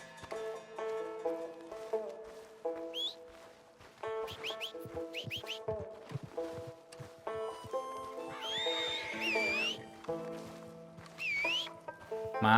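Horses in the Red Dead Online video game neigh and whinny repeatedly after a gunfight, with hoof clatter and scattered snorts mixed in, fairly close and continuous.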